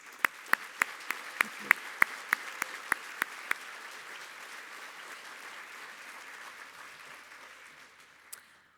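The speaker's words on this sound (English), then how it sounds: "A round of applause for these" Applause rises at a Great Bay Community College commencement: evenly spaced, sharp claps stand out over a soft wash of clapping that gradually thins out toward the end.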